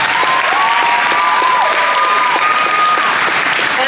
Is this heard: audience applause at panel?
yes